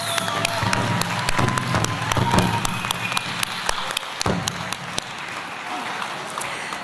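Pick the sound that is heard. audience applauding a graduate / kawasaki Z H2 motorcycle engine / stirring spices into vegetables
audience applauding a graduate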